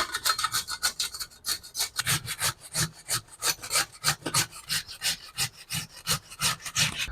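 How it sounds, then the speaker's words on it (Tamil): Sweet potato being grated by hand on a large carrot grater, a close, steady run of rhythmic rasping strokes, each stroke a loud scraping burst, repeating evenly with no talk. "இப்போ இதை வச்சு நல்லா துருவி எடுத்துக்கலாம்."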